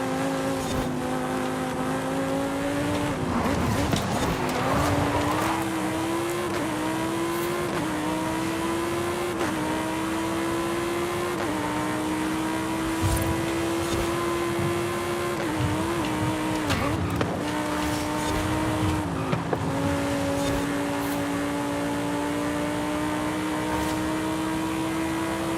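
A Ferrari engine in the racing video game Forza Horizon 5 holds a steady high-revving drone, with gear shifts, dips in pitch and brief bursts of tire noise. It stays loud and continuous throughout, with no talking.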